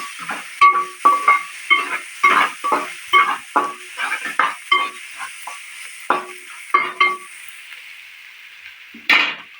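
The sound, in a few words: stirring dried fish curry in a pot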